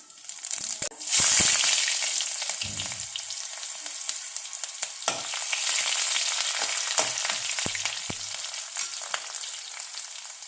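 Panch phoron spices hit hot oil in a kadai with a loud burst of sizzling that settles into steady crackling and popping, with occasional stirring clicks.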